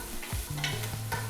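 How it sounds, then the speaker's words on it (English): Chopped onions sautéing in hot olive oil in a pan, a steady close sizzle with a brief stirring scrape, no voices. "I'm gonna saute my onions for at least 1 minute."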